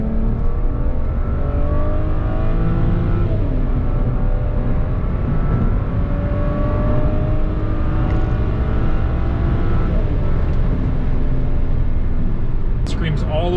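A BMW engine revs hard up toward 7,000 RPM, a loud continuous rising and falling howl with shifting harmonic tones as the car accelerates, heard up close throughout.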